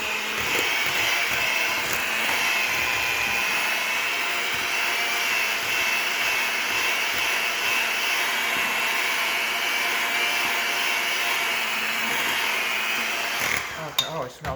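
An electric hand mixer beats cinnamon cookie batter, a steady loud whirring drone that runs unbroken for most of the stretch before cutting off with a few clunks near the end.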